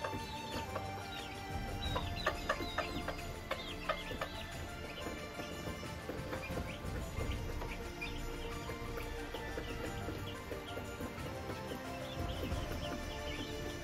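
Chickens cluck continuously at close range, several birds overlapping in busy, irregular bursts with occasional sharper squawks over a steady farmyard din.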